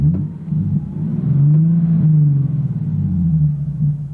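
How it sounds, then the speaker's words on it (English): A 2012 Nissan 370Z with a six-speed manual transmission revs up, its engine rumbling loud and close and rising in pitch, dropping back, then climbing again over four seconds with no talking. "Let's diagnose and we'll rev it up a little."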